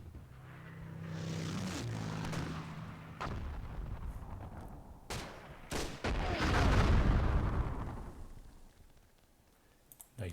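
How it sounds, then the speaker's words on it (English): Airstrike explosions in the Myth II Soulblighter multiplayer game, a series of deep booming blasts with sharp cracks between them, swelling into a long rumbling roar before fading out. "Nice airstrike there from Paris."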